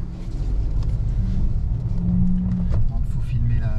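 A Fiat 500 Hybrid Sport drives along, its engine a steady low rumble with road noise at an even level throughout, heard from inside the car.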